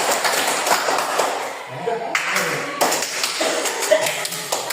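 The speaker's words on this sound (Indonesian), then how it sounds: "Tepuk 1, tepuk 2, tepuk 3, tepuk 4" A group claps in a counted rhythmic pattern during a classroom activity, sharp close claps coming in quick bursts over a noisy room.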